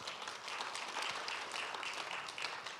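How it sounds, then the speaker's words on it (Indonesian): A church congregation claps steadily and continuously, a dense, even applause heard from a moderate distance. "Beri tepuk tangan bagi Tuhan."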